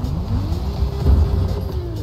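A Lamborghini engine revving in The Crew Motorfest racing game, a steady close drone that climbs and holds in pitch over about two seconds with no speech.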